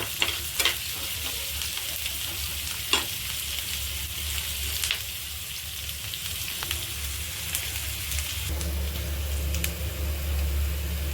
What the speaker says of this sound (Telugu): ఆనియన్స్ బాగా కొంచెం లైట్గా వేగేయండి